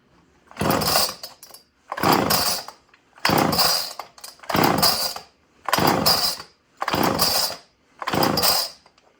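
A small two-stroke mini chainsaw revs in seven loud, regular bursts, each roaring for about a second before dropping back, close by.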